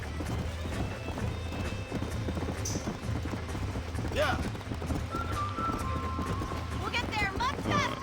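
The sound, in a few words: horse hooves while riding in Red Dead Redemption mobile video game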